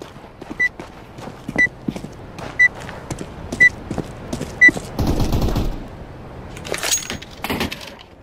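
Gunfire in the video game CS:GO: single sharp shots crack out roughly once a second, followed by a dense burst of rapid fire and scattered clatter, all fairly loud over a low game background.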